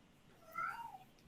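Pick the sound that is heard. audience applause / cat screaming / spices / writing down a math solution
cat screaming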